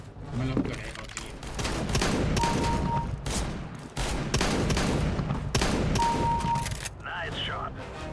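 Rapid bursts of gunfire from the video game Counter-Strike: Global Offensive, loud and dense volleys repeating across the clip, with voices talking underneath.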